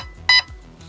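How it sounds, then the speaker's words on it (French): Two short, bright electronic beeps close together from a GATE Aster V2 airsoft control unit, clean and near, with no talk over them. "Voilà, 2 bips."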